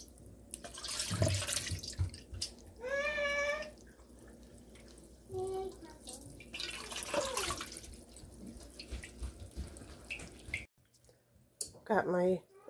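Rendered lard drips and trickles through a sieve into a container, with scooping clinks and liquid splashes close by, interrupted by bursts of talking.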